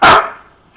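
A single sharp bark from a female dog during obedience training, loud and close, cut off quickly and followed by quiet.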